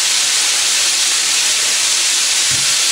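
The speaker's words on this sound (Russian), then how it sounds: "Сейчас мясо пожарится красивым станет" Pork meat frying in a pan gives a steady, loud broadband sizzle and hiss that fills the whole clip without pause, with a brief low thump near the end.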